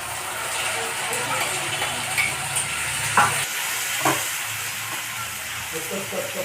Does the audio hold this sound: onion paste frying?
yes